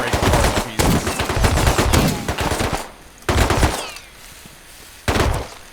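Incendiary rounds fire in rapid automatic bursts in the video game Rust. There are three loud, close volleys with short pauses between them, and each burst rattles densely before cutting off.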